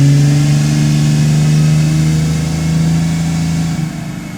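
A diesel truck engine runs at full throttle against the brakes, giving a loud, steady, strained drone that holds for several seconds before easing off slightly at the end, with no talk.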